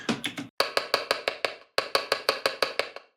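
Fuller, thicker drum and bass hi-hat sample layer with more weight in the tone, played in two quick even bursts separated by brief silences, with no voices.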